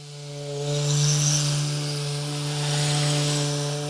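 A Surge power sander strips stain and sealer from a wooden door, a loud steady motor whine with a strong buzzing tone and gritty abrasive hiss that swells and eases as it moves, with no talk.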